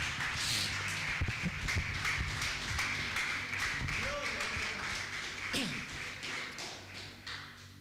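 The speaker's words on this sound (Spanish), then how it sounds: "Dele palmas fuertes al Señor," Congregation in a church clapping their hands, a scattered burst of palm claps and taps beneath a preacher's voice speaking over them.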